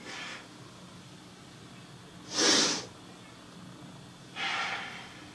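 Three breaths during a guided breathing exercise: a faint opening breath, then a louder sharp exhale and another breathy inhale or exhale, each about half a second long and set apart by quiet room tone.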